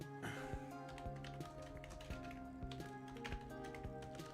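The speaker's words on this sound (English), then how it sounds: "Just typing, as you can hear." Soft, steady keyboard tapping runs throughout, a quiet string of key presses heard over a faint background hum.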